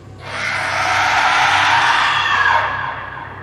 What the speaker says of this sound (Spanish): Un grito rompió el silencio.